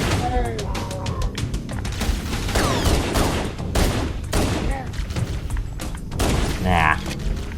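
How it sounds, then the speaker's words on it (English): Grenade explosions and gunfire chain together in Halo Anniversary, heavy booms and rapid shots filling the soundscape while a player talks over them. "Be careful of grenade chain reactions."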